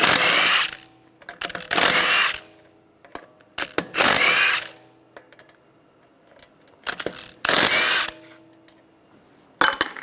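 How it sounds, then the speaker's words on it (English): An impact power tool with a 17mm socket removes the lug bolts from a wheel of a 2009-2013 BMW 328i xDrive, with five loud bursts of whirring separated by quiet gaps and metallic clinks of bolts and socket. "We're going to remove the wheel, use a 17mm socket, take the lug bolts out"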